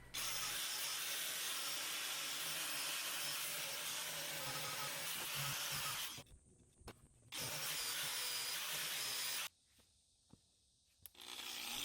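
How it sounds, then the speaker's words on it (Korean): Spray paint hissing onto the welding area of a mini excavator quick coupler, a loud continuous spray that cuts out in two pauses before resuming, close by with no talk. "용접할 부위에 페인트를 날려줍니다."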